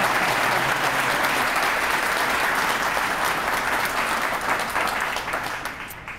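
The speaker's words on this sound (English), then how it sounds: "Please applaud." Loud, dense audience applause at a community unveiling event in St. Charles, sustained for several seconds and tapering off toward the end.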